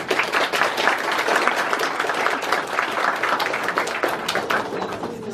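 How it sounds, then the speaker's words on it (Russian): An audience applauds for a birthday at a BirdID training results event, a dense sustained burst of many hands clapping for about five seconds, fairly loud and tapering slightly at the end. "Давайте похлопаем"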